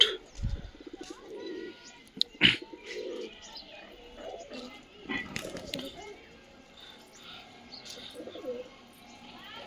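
Pigeons coo and chirp inside a rooftop pigeon loft holding both foreign and local Girribaz birds, with close, intermittent calls and brief flutters as a person talks nearby.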